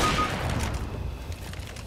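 Gunfire in a first-person shooter video game, heard as a dense, steady burst of game audio with sharp crackling shots and rumbling low end, loud and continuous with no talk.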